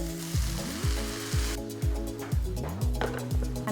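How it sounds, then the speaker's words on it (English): Cooked Maggi noodles sizzle in a hot pan while being stirred, a bright frying hiss over a backing track of rhythmic, repeating bass thumps with a tonal melody. "add the cooked Maggi noodles to the pan and mix well"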